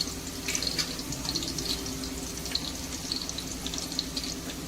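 Garlic sizzles and crackles in hot oil in a pot, a faint steady frying hiss with small pops and no talking.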